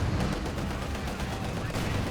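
A big Soviet mortar fires in a video game tournament match, the booming shot buried in a dense, continuous wash of battle noise and gunfire that holds steady for the whole stretch.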